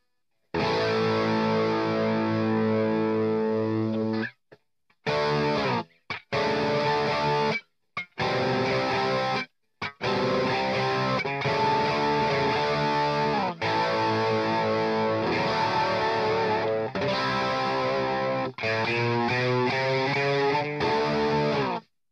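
Heavily distorted electric guitar chords played through an amp-modeling app on an iPhone or iPad, loud and saturated with a chorus shimmer, in bursts with brief silent gaps before a longer sustained passage.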